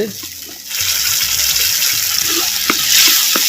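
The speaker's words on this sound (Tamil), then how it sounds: "சேர்த்த தக்காளி பழம் விழுதுகள் நல்லா பச்சை வாடை போகிற அளவுக்கு நல்லா வதக்கிட்டுருவோம்" Tomato paste sautés in oil for a sardine fish gravy, a steady loud hissing sizzle that starts after a brief low rumble, with a few clinks of stirring close by.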